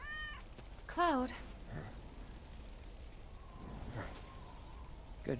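A cat meows in Final Fantasy 7 Remake, one clear rising-falling meow near the start followed by a softer short mew, over quiet game ambience with brief voice sounds.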